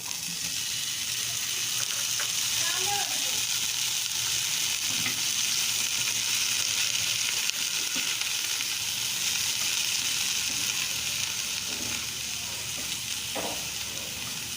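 Boiled cauliflower frying in oil over a low flame gives a steady, dense hiss and bubbling sizzle that holds evenly throughout, close by, with a few faint utensil knocks and no talking.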